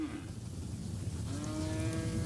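Cattle moo on grazed land on the Carrizo Plain, a low drawn-out call rising over a steady background hum, fairly close and clear with no voices.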